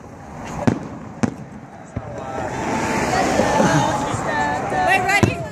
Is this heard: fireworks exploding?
yes